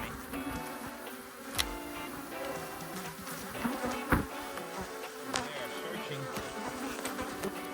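Steady swarm of honey bees buzzing close by, a dense continuous hum with a few louder individual bees darting past.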